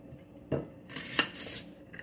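A kitchen knife cuts the ends off half an onion. There is one solid chop, then a few sharper clicks and scrapes against the board, close and with no talking.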